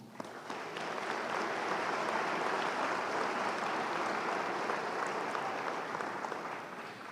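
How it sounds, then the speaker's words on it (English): An audience at a fall commencement ceremony claps for veterans, steady and moderately distant applause that swells quickly and tapers near the end, with no talking over it. "get your hands together to applaud all the veterans in the audience"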